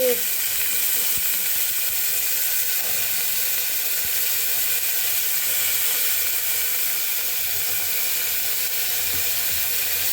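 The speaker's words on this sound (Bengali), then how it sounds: "পেঁয়াজটা দেওয়া তো খুব ছিটকাচ্ছে" Onions fry in oil in a pressure cooker pot, giving a constant close sizzle with scattered sharp pops and spatters throughout, steady in level from start to finish.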